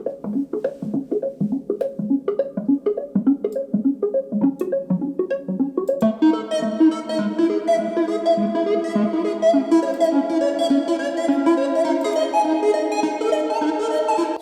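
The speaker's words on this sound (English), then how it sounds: "In the breakdown of the track there is a synthesizer arpeggiator going on" A plucked, rhythmic Omnisphere synth arpeggiator pattern repeats steadily, then a brighter, fuller sustained synth layer swells in halfway through and carries on with no voices.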